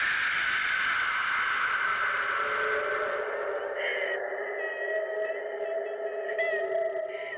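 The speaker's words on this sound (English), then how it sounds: "There's crying sounds in there" Eerie, droning soundtrack of sustained, wavering tones with a faint high whine, thinning out midway into quieter, ghostly layered tones; no clear crying stands out.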